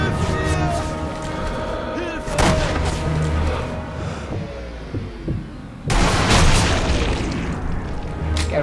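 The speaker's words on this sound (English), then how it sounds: "Oh shit, I threw a grenade." A grenade explosion in the World War II sniper shooter Sniper Elite V2 at the Mittelwerk Facility booms deep and loud. Heavy rumbling blasts arrive amid game noise and excited talk.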